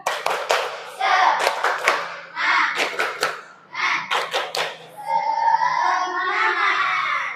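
Several people in an Indonesian classroom clap together in a rhythmic 'tepuk semangat' pattern of quick bursts and pauses, mixed with children's voices chanting along, ending in a cheer.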